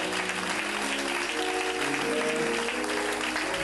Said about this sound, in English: Come on, let's give each other a round of applause.